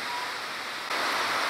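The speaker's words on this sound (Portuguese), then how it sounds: "tá chovendo bastante aqui agora" Heavy rain falling on a rural farm property, a dense steady hiss that grows louder partway through, with no speech.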